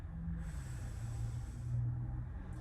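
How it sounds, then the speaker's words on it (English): A long, slow inhalation during a yoga stretch session, a soft hissing breath drawn in through the nose and held steady, faint and close with no talking. "Let's take a deep breath in together"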